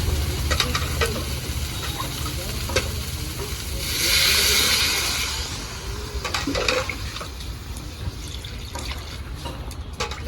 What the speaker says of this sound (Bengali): ফুলকপি আলু তো ভালো করে ভেজে নিয়েছি এবার দিয়ে দেবো পরিমাণ মতো জল